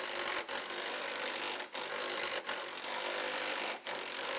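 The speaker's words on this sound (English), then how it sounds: "So now we can unbolt our extensions from our frame rails." Frame rail extensions are being unbolted from a wrecked, high-mileage Honda Civic, heard as a loud, continuous mechanical whir of a tool at work, broken by a few short pauses and with no voices.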